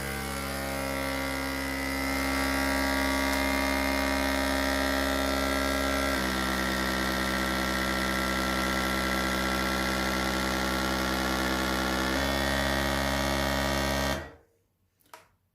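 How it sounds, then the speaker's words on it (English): A Calmdo CD-V001 vacuum sealer machine runs its pump in a loud, steady drone while sucking out air, holding an even tone for about fourteen seconds before cutting off abruptly, followed by a few faint clicks. "Push the dry, it will suck all the air."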